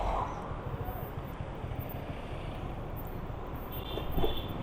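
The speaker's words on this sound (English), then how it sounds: "Cool breeze blowing." Steady wind rushing over the microphone during a motorcycle ride on a cool day along a main road in Ludhiana, Punjab, a broad constant roar with faint traffic sounds underneath.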